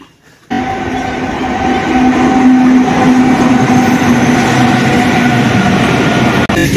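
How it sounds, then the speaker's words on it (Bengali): A passenger train rolls into a station at Bishnupur with a loud, steady rumble and a clattering wheel noise that builds after a brief quiet start and holds close by. "আমাদের ট্রেন আসছে, অনেকক্ষণ দাঁড়িয়ে আছি।"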